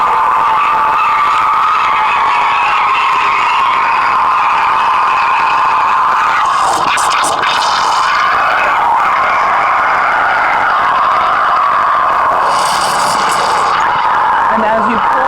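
A Mr. Coffee espresso machine steam wand froths 2% milk in a tilted cup, making a loud, steady hiss with a rising, bubbling gurgle that keeps going throughout.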